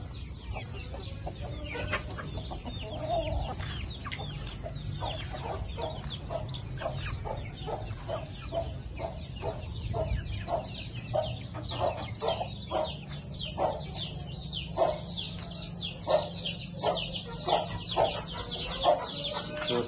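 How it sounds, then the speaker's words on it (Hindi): Chickens and roosters let out of their cage after a long time, clucking continuously in a dense, lively chorus close by, with repeated short calls growing busier toward the end. "बड़े खुश हो रहे मुर्गे आज, बहुत दिनों के बाद छिलके छोड़े।"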